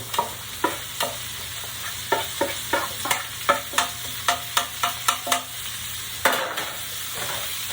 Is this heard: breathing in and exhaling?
no